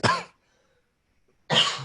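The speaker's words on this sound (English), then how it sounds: "Just the annoying cough." Two short, sharp coughs separated by a pause of silence, close and fairly loud.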